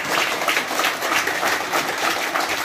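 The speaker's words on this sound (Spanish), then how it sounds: "yo quiero escuchar ese aplauso más fuerte" A crowd of Salvadorans in a gathering abroad claps together, a fairly loud, sustained, textured wash of many hands with no voices over it.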